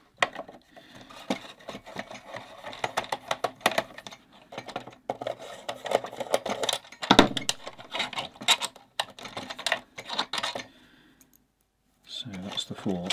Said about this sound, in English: So let's take out the other screws here.